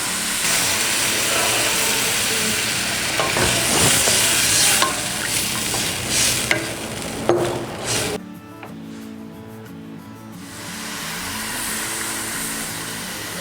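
Cabbage and broth added to a pot of sundubu jjigae, Korean soft tofu stew, hissing and bubbling loudly with stirring clatter, then dropping to a quieter simmer.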